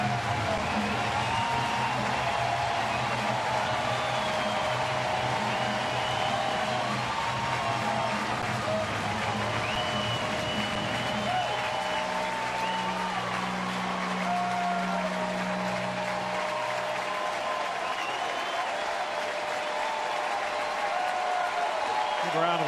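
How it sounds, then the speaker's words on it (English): A baseball crowd at Busch Stadium gives a long, steady round of applause and partial standing ovation, dense clapping and cheering filling the stadium, with a broadcaster talking over it throughout. "Round of applause and a partial standing ovation from the crowd here at Busch Stadium for Matt Holliday"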